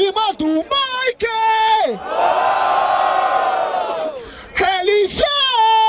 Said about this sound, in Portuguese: Barulho para as rimas do Mike!